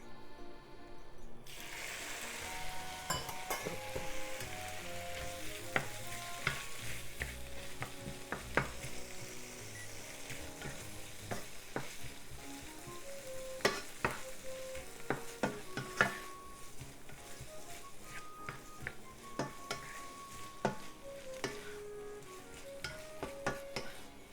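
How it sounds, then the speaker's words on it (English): Steady sizzling of squid frying in vegetable oil in a hot pan, with occasional scraping and clinking of a utensil stirring, continuous and close. "let's cook the squid first"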